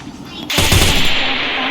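Gunfire in a mobile shooter game, a sudden loud blast or burst that hits once and then lingers as a dense, sustained roar, close and dominant.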